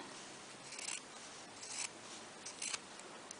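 Scissors snipping through cotton drill fabric to trim a sewn seam allowance, three or four quiet, close crisp cuts spaced about a second apart.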